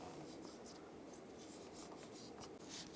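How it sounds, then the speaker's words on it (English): A scraper or razor blade scraping old gasket material off the engine face of a 2008-2016 Chevrolet Cruze during a water pump replacement, a faint close scratching and rubbing in steady strokes. "you want to use a scraper or a razor blade and just scrape any excess"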